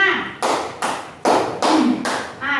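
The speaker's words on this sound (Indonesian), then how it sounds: "Jadi itu untuk tepuk 4-nya 2 kali tepukan ya Bu ya, kiri dan kanan." Sharp single hand claps in a counting exercise, in which the fourth count is two claps struck left and right. Six distinct claps fall at a brisk, slightly uneven pace while someone talks throughout.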